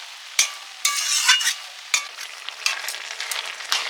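Chikni saag greens being stirred in a pan, with repeated scraping strokes of the spoon over a steady frying sizzle, close and fairly loud with no talk.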